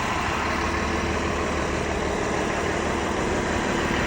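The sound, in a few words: bus engine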